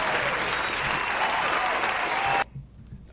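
A crowd applauds in a dense, steady wash of clapping that cuts off abruptly near the end, leaving near silence.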